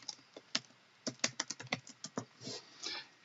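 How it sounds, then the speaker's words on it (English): Fingers type a short phrase on a computer keyboard, a quick irregular series of crisp, close key clicks ending in a couple of softer presses, with no voice. "type in breakaway trails"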